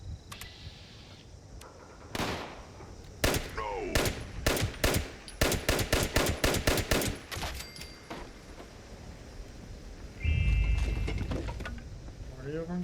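Gunfire crackles through a post-apocalyptic Appalachian wasteland video game, sharp shots in bursts with a rapid run of rounds midway, followed by a louder rumbling hit near the end.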